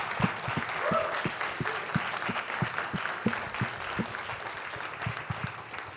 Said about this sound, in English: I'd like to give the biggest applause we have of the day, because it's the last speaker.